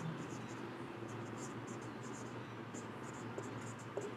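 Pen scratching on paper while a derivative is worked out by hand, soft and close, with quiet short strokes continuing steadily under a faint room hum.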